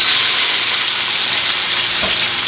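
Pork hits hot oil in a wok and fries with a loud, steady, close sizzle that keeps hissing throughout, with no talking.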